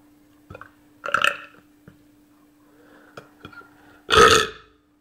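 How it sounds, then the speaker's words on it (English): A man lets out a big, loud, drawn-out belch near the end, after a few smaller throaty burps and gulping noises spaced over several seconds. "I'm belching like belch, a big belch."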